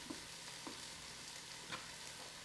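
Andouille sausage sautés in a Ninja Foodi with a soft, even sizzle, and a few light taps from stirring rise above it.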